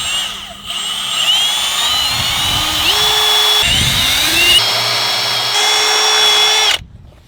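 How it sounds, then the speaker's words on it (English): A power drill bores holes into wood for a homemade steering wheel puller, its motor whining loudly and close, pitch shifting as it bites in and spins up, then stopping abruptly. "now drill holes here"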